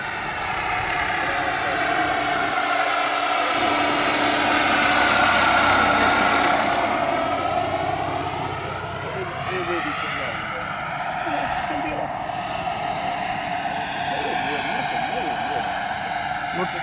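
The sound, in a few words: turbine Airwolf model helicopter flying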